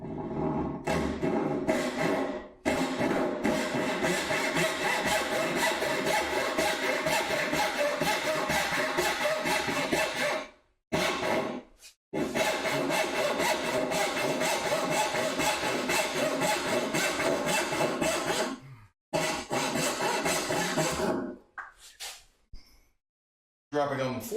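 Hand saw cutting splines in wood, long stretches of loud, rasping strokes in a steady back-and-forth rhythm, broken by a few short pauses and nearby clunks.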